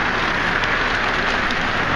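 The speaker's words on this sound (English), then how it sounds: "And it's raining." Steady rain falls on surfaces nearby, an even, dense hiss of drops with no breaks and no voices.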